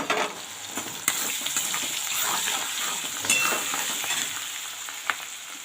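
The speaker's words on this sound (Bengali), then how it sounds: "এবার একটুখানি ভেজে নেব" Turmeric and grated ginger fry in a pan for a broccoli dish, making a continuous close sizzle and crackle with occasional stirring clacks against the pan.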